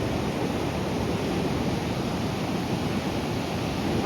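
Steady broadband roar of surf at a Cornish beach near Trevornick, continuous and fairly close, with no voices over the washing waves.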